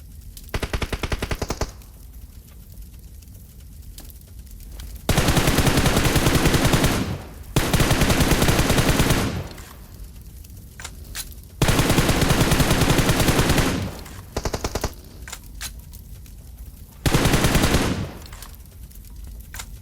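Bursts of heavy gunfire-like blasts in a game as a car explodes, several loud sustained volleys separated by quieter gaps, with no talking.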